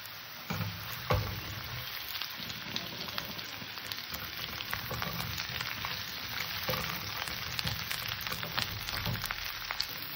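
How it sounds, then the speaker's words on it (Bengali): Ridge gourd and potato pieces fry in a pan, giving a continuous, close crackling sizzle with occasional stirring knocks and no talking. "আলু কাটা ভাজা হয়ে গেছে, আমি এবার ঝিঙে কাটাকে দিয়ে দিলাম।"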